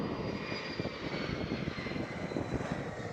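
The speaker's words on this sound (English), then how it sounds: "with the E170." An Eastern Airways Embraer E170 passes at Schiphol Amsterdam, its engines a steady, fairly distant roar with broad rumble and a faint high whine, with no voices.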